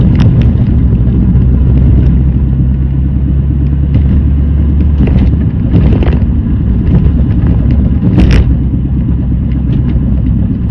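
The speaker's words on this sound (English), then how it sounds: "Definitely a rattle there, and then definitely something happening down here at the front." A Mini Cooper S R53 with a worn front wheel bearing makes a heavy, constant low rumble while driving, with faint irregular rattling knocks scattered through it and no speech.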